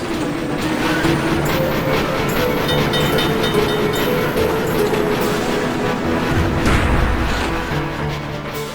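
Gold train from the Spirit Tracks video game rolling along its rails, a steady loud rumble with rhythmic clacking and faint metallic squeals running continuously, no voices.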